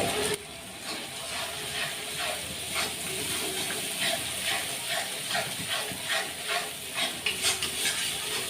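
Nut, poppy seed and rice paste plus a splash of water go into sizzling spice masala for a Bengali hilsa tel jhal, giving a steady loud hiss and sizzle with repeated stirring scrapes throughout.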